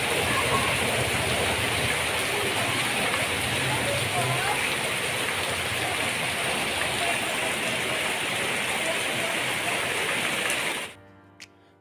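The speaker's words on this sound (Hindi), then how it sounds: "बाहर इतनी तेज़ बारिश हो रही है" Heavy rain pours down outside in a dense, loud, continuous hiss that stops suddenly near the end, leaving near-silence with faint ticking.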